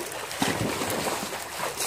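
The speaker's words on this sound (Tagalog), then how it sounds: "Nakunan ko itong agos." Water of a stream in a park flows steadily as a continuous broadband wash, close and moderately loud, with no talk over it.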